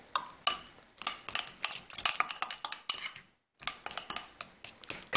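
A utensil scrapes and clinks in a dish as mashed banana and applesauce are stirred together for a fruit fly culture, with quick, irregular bursts of strokes broken by short pauses, close and fairly quiet.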